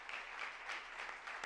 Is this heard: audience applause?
yes